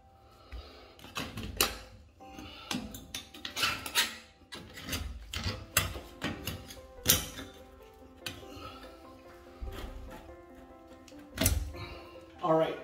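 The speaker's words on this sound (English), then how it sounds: "I'm gonna use my scraping tool. I'll get rid of this wax around there" A hand scraping tool rasps and knocks against a toilet flange while clearing away an old wax ring, giving irregular close scrapes and sharp clinks with pauses and some talking between strokes.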